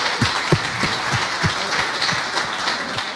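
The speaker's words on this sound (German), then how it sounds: "der Applaus freut mich," Audience applause at a panel discussion, a dense crowd clapping steadily for a few seconds at moderate distance with no speech.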